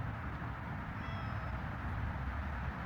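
A pet cat meows indoors, a soft, faint cry heard under a steady low background hum, short and alone without speech.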